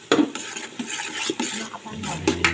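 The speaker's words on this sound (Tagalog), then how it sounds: "Yan po, nilalagay na po yung bawang. Ayan, bawang sibuyas." Garlic and onion dropped into a cooking pot for sopas, with clattering utensil knocks, scrapes against the metal and a light sizzle, close and busy throughout.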